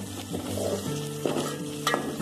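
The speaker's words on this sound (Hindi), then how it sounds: "3-4 मिनट हो चुके हैं इसको मुझे फ्राई करते हुए।" Koftas fry and sizzle in a pan, a continuous close crackle with a steady hum under it and a couple of brief utensil clinks near the end, with no voices.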